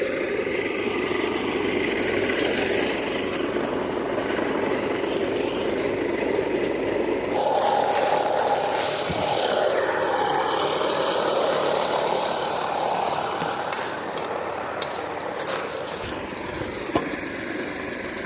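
An irrigation water pump motor in a maize field drones steadily throughout, a continuous mechanical hum with faint rattling vibration, fairly close and unchanging.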